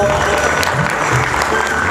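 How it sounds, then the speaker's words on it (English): Applause and clapping from an audience at a refinery farewell function, a dense steady round of many hands, loud and close, with voices mixed in. "of clapping and applause"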